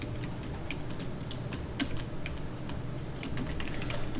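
Steady computer keyboard typing while entering CAD drawing commands for a 2D injection mold drawing, with quick light key taps in a continuous patter over a low room hum and no voices.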